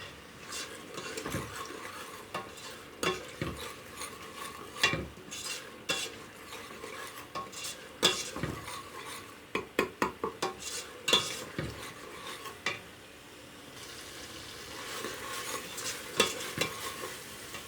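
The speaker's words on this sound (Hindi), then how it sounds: "अब इसको भूनेंगे अच्छी तरह। मसाले को अब पकाएंगे हम अच्छी तरह।" Rajma masala spices with turmeric frying in a pan while a spoon scrapes and stirs in repeated bursts, a steady sizzle underneath and occasional clinks of metal against the pan.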